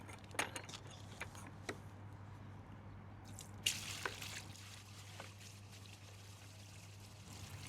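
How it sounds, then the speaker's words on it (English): Water from a bucket poured down a roof outlet into a drainpipe, heard as scattered drips and trickles with a brief louder splash midway, all fairly quiet over a steady low hum. "Going to get a bucket of water, pour it down the outlet on the roof."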